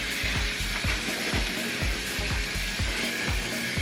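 Water runs steadily while rinsing a synthetic hair ponytail, a continuous hissing splash with rhythmic lower thumps as the hair is worked under the stream, close and fairly loud.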